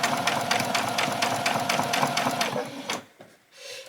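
Sewing machine stitching an apron alongside a guide string, a rapid even mechanical needle rhythm that runs close and steady, then stops and falls quiet before a faint hum returns.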